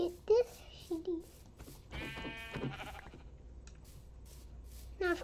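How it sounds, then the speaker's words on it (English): Sheep in the video game Minecraft bleat in short wavering calls, several of them spread across the stretch, clear and close over a quiet background, with a burst of busier game noise in the middle. "Get this sheep."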